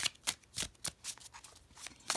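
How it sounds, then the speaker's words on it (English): A Golden Art Nouveau tarot deck is shuffled by hand, giving a quick run of crisp riffling bursts in an irregular rhythm, close and quiet with no voices. "let's go ahead and give this a shuffle"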